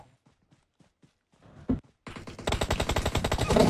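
Rapid automatic gunfire in PUBG Mobile: a few soft taps, then a dense, loud burst of repeated shots that keeps going to the end.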